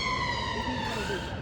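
Ambulance siren passing outside wails with a rising and falling tone, fairly faint and muffled, under what sounds like a low voice in the room.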